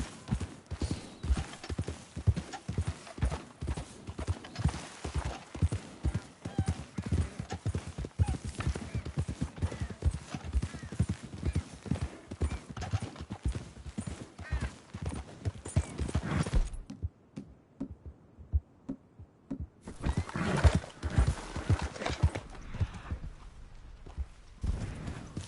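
Hooves pound rapidly as a horse gallops in a video game, a dense, loud, continuous rhythm lasting most of the time, with a brief near-silent gap before the galloping resumes.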